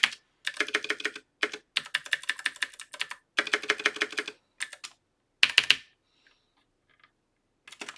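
A long password is typed on a computer keyboard in quick bursts of close, crisp key clicks, separated by short pauses. The typing stops near the end, with only a couple of faint taps after it.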